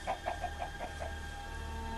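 A Minecraft chicken clucks in a quick run of about six short notes, then trails off, fairly faint over a steady background hum.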